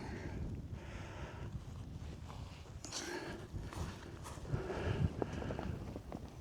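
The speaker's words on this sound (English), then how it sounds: "It's a bit windy, I couldn't really find too much of a sheltered spot." Easterly wind gusts across an exposed hillside tent camp in the Scottish hills, a steady rumbling buffet against the microphone with some flapping and rustling and brief louder surges.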